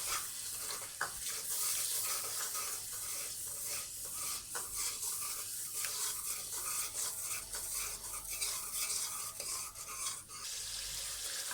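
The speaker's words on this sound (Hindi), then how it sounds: "2 मिनट के बाद अब हम इनको भून लेंगे।" Eggs and onions fry in a pan for black pepper chicken gravy, a dense, continuous hiss of sizzling with soft stirring scrapes throughout, steady and unbroken, without speech.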